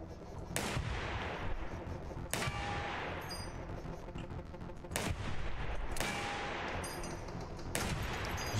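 Sharp handgun gunshots from the video game Receiver II, five loud, echoing reports spaced irregularly a second or two apart, each with a long ringing decay.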